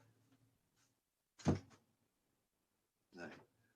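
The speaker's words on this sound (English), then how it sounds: "Let me close this door." An indoor door swings shut with one solid thunk, close and moderately loud, and a softer knock or rattle follows a moment later.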